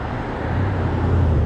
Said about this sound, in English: we'll just wait for these cars to go by